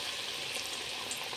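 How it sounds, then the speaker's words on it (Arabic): Chicken breasts for breaded panné frying in hot oil, a steady close sizzle with fine crackling spread evenly through the whole short stretch, no voices. "الزيت غلي اهو. هبدأ احط صدور الفراخ."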